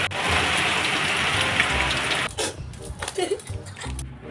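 Steady rain falls in a dense hiss for about two seconds, then breaks into scattered patters and drips, with a voice briefly heard over it.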